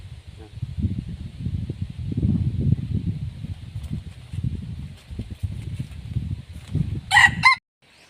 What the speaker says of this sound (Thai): ไก่เข้ามาเลยนะครับ